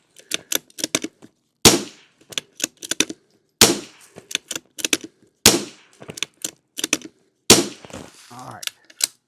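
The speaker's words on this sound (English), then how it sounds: "I've got 5 rounds loaded up here of just plain old unlubed ammo that I want to put through here to get the barrel warmed up" Five unlubricated rounds of CCI standard velocity ammunition fired in quick succession to warm a rimfire barrel, each sharp crack followed by fast mechanical clicks of the action cycling, loud and close with no talk.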